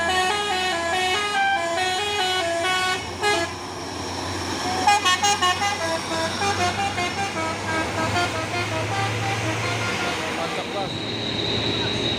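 An Isuzu Giga truck's musical telolet horn plays a rapid, melodic sequence of toots over a steady engine rumble, with bursts of pulsing honks in the middle.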